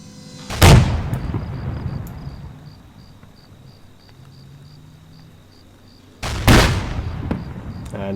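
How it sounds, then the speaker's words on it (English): Two booming artillery shell launches in Arma 3, each a sharp heavy blast with a rolling tail, spaced several seconds apart over a steady chirping of crickets in the background. "I'm going to fire some artillery off and get this one in."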